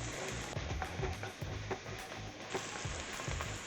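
Thyme, rosemary, garlic, carrots and celery sizzle in a pan as they cook for brisket, giving a steady close crackle broken by occasional stirring scrapes, with no talk.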